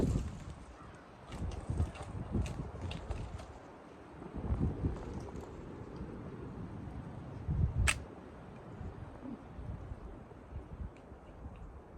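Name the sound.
wind outdoors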